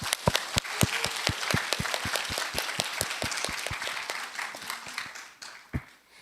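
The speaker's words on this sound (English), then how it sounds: "Let's give a big round of applause to all those speakers who delivered great" Audience applause at the close of an English talk concert in Daegu, honoring speakers after their presentations: dense, steady clapping from many hands with sharp individual claps standing out, gradually thinning and tapering off toward the end.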